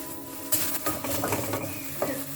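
Green chilli pickle mixture with water and curry leaves boils in a pot, a steady bubbling sizzle with occasional soft stirring clinks close by.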